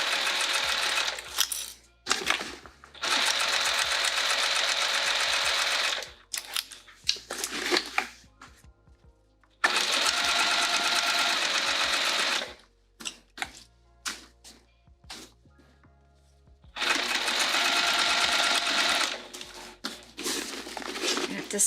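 Sewing machine stitching a vinyl bag, running in several long steady bursts separated by pauses filled with handling, crinkling of vinyl and small clicks, close and fairly loud.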